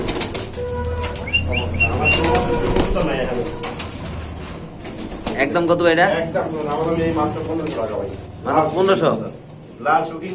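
A king pigeon released low, its wings flapping in bursts of loud beating amid cooing from other pigeons, with someone talking throughout.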